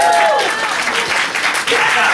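A live comedy audience cheers and applauds in a steady, dense wash of clapping and whoops that fills the whole moment, loud and close, with voices mixed into the crowd noise.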